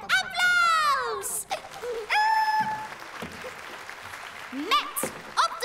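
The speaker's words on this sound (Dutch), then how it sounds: "Applaus!" Cheering and clapping for a children's musical stage show with a band, mixed with whistling sweeps, chirpy cartoon effects and voices, fairly loud throughout.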